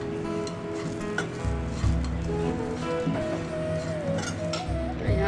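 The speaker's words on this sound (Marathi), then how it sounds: "हे आहे काजूचं वाटण. थोडं पण जरा लाल होईपर्यंत परतून घ्यायचं." Cashew paste sautéing in a pan gives a steady, soft sizzle and scraping stir with faint clinks, close and continuous, with no one speaking over it.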